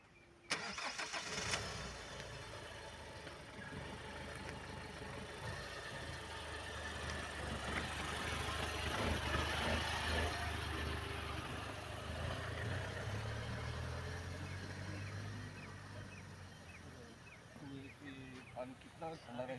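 A car engine cranks and catches, then settles into a steady low idle that swells and eases over about twenty seconds, heard close, with voices talking around it.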